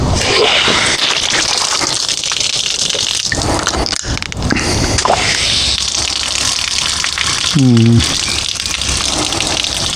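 Steady broadband rush of water gushing from a hose through a filter, continuous for the whole stretch, with a brief squeaky tonal noise near the end.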